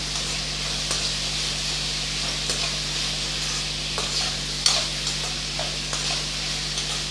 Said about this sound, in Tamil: சேர்த்து நல்லா வதக்கி விட்டுறலாம்.